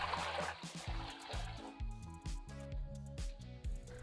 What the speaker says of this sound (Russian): Ставлю таз на плиту и наливаю в него 6 литров воды.